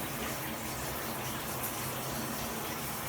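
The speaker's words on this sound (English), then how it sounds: "we're running a shower because it's hella cold in my bathroom right now" A shower runs steadily in a bathroom, a constant broad hiss of falling water that fills the space without pause, fairly close and even in level throughout.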